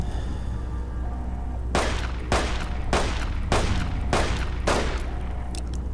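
Pistol shots in the Fallout New Vegas video game: six sharp, loud cracks fired at a steady pace about half a second to a second apart, each with a brief decay, over a low ambient hum and no talking.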